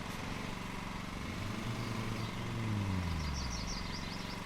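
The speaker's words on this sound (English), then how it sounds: "Let's go get off the lawnmower." Riding lawn mower engine in the video game Lawn Mowing Simulator, a steady low drone that shifts pitch as it revs, with faint bird chirps in the background.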